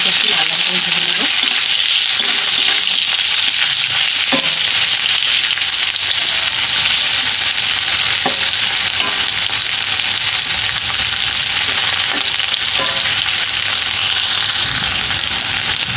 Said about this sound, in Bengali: কলাটাকে একটু লাল লাল করে ভেজে নেবো